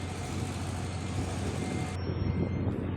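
Heavy vehicles rumble steadily while boarding a Fast Cat RoRo ferry on the Dumangas to Banago crossing, a continuous loud engine drone with low throb and no clear beeps or voices.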